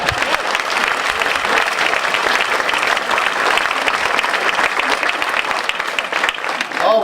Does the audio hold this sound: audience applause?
yes